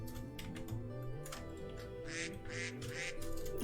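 A duck in Minecraft gives a few short, nasal quacks at moderate loudness, and soft keyboard-like tapping runs through the background.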